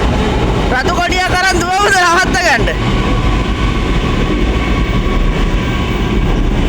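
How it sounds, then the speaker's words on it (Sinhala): A train rumbles loudly and continuously nearby at a station in Malaysia, with a brief burst of voices over it at the start. "අන්න කෝච්චි තියෙනවා. අන්න යනෝ."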